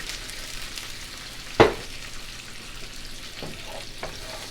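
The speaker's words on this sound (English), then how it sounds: "to keep it from burning, I'm going to add a little bit of white wine" White wine poured into a hot pan with garlic for shellfish bisque sets off a sudden loud hiss that settles into a steady, close sizzle with faint clinks.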